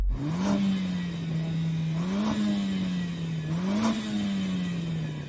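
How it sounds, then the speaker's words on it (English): A five-cylinder car engine idles nearby and is revved three times, each rev rising briefly in pitch before settling back to a steady drone. "this 5-cylinder engine does sound good"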